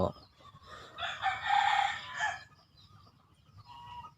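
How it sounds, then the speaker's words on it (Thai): A rooster crows once, loud and close, among chickens at a farm in the morning, followed by softer clucking and rustling in the background. "วันนี้เราก็มาเลี้ยงไก่"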